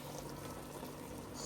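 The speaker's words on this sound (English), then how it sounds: "In here, I'm boiling stockfish, goat meat, and cow intestine." A pot of stockfish, goat meat and cow intestine for obgono soup bubbles at a steady boil, a soft continuous simmering hiss and faint popping, heard alone at low level.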